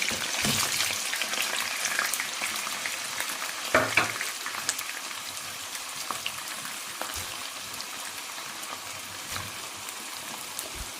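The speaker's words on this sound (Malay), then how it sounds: "Mula-mula panas minyak, lepas kita masukkan fish cake dengan hot dog lah." Fish cake and hot dogs fry in hot oil, giving a steady crackling sizzle with popping spatter throughout, close and fairly loud, with no talking.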